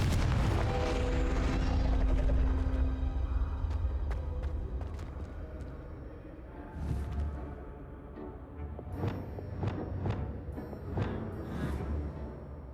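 Confringo spell blasts in Hogwarts Legacy, a series of booming, fiery bursts with rumbling tails, loud at first and then recurring as sharper separate impacts against quieter game sounds.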